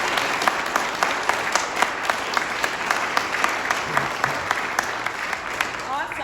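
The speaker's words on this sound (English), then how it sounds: "Let's give them a round of applause." Audience applause for hospital BEE and DAISY award winners at Bellevue Hospital, a steady sustained clapping of a room full of people with faint voices mixed in, holding evenly for the whole stretch.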